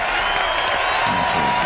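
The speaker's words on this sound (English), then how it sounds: "Let's give him a nice round of applause on the piano." Audience at the 1985 Long Beach Blues Festival in California applauding and cheering pianist Henry Butler, a steady, dense wash of clapping and crowd noise that holds evenly throughout.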